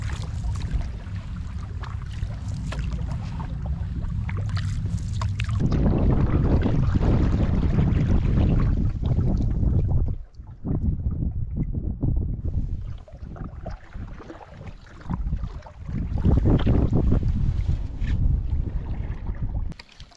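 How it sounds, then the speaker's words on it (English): Strong wind over a pond in the Adirondacks roars and buffets the microphone continuously, with loud gusty rumbles rising and easing, water faintly lapping beneath. "it's just too windy on this pond."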